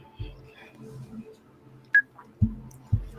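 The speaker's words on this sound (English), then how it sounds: "Let's get Helen on the phone." A phone call is dialed with a brief electronic keypad beep, followed by a few soft, dull thumps from handling the phone, in an otherwise quiet indoor setting.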